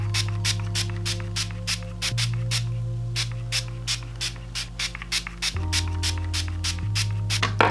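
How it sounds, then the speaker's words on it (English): Too Faced setting spray misted onto a face during a fall glam makeup routine, heard as a rapid series of short, close hissing spritzes over a steady low hum. "I like to spray my face down with some Too Faced spray"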